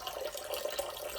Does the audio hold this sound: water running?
yes